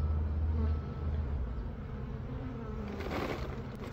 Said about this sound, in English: There's a couple agitated bees hanging around my face.